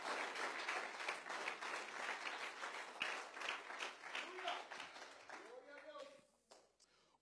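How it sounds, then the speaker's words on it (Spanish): Applause from a church congregation during a Spanish-language worship service, a dense wash of clapping that carries on steadily, with a voice rising over it near the end as the clapping thins and fades. "Denle un aplauso a él,"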